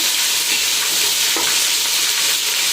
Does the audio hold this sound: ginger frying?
yes